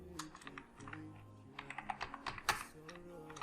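An account name is typed on a computer keyboard: a quick, irregular run of crisp key clicks, close and fairly quiet, with a short pause near the start before the tapping speeds up.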